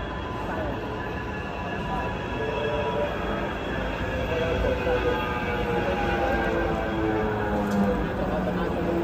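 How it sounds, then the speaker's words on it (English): A tram at Manchester Victoria station rumbles steadily and loudly throughout, with faint high wheel squeal riding over the constant low roar. "yeah, off to get the tram now."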